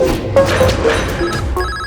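A telephone rings in a scene from a Hindi-dubbed South Indian action film. The ringing is steady and sounds close, with music and film sound running underneath it.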